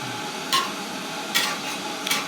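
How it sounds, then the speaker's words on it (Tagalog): A pot of pinakbet with vegetables and tofu bubbles with a steady soft hiss while a utensil scrapes through it three times at even intervals. "Kumukulo na siya."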